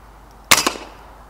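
A single sharp air rifle shot at a rat about twenty yards away on a farm, a brief crack with a quick second knock of impact, otherwise quiet.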